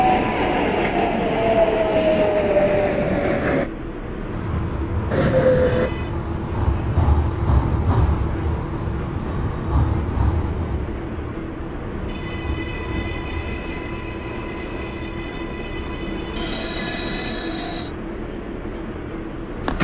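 An R142 subway train on the 6 local line runs through the Bronx in the OpenBVE simulator, a continuous rumbling ride with steady wheel and motor noise and a rising electric whine, with no speech.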